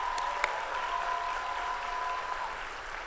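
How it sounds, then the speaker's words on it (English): Sustained audience applause at a community college commencement ceremony for graduating veterans, a steady wash of clapping from a large indoor crowd with no talking over it. "Please join me in giving them a round of applause."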